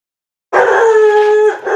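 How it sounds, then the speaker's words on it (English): Pet dog indoors letting out a single loud drawn-out howling bark after a moment of silence, close to the listener and tapering off at the end. "And he really started barking, going crazy."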